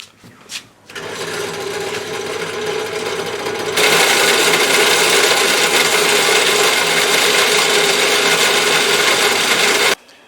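A steady, grinding power drill with an 8mm bit enlarges a hole in ceramic, running continuously, growing louder and harsher partway through, then stops abruptly.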